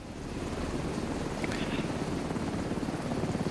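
A helicopter in a video game arrives, giving a steady loud rotor chop and engine drone that continues throughout.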